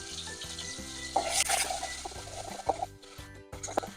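Chopped onion and ginger-garlic paste frying in a little oil: a soft sizzle with spoon stirring and scraping against the pan, with a steady low hum in the background.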